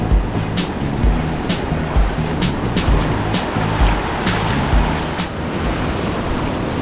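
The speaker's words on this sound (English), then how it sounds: "we have some pretty big waves here, which are really fun to play in" Big ocean waves crash and roll continuously onto Nacpan Beach, a loud wild surf roar with wind buffeting the microphone and no talking.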